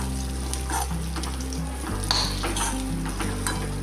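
Cashews frying in a pan for a kaju curry, a dense continuous sizzle with intermittent stirring scrapes and clinks, close and steady throughout with no talking.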